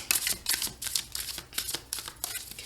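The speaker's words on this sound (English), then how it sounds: "I'm going to shuffle again" A deck of tarot cards is shuffled in a quick run of soft, papery riffling bursts, repeated rhythmically about every quarter second, faint and close.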